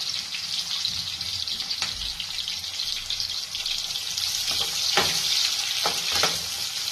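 Paneer frying on full flame, a loud continuous sizzle with hissing close to the pan and a few sharp scrapes and pops as the pieces are turned.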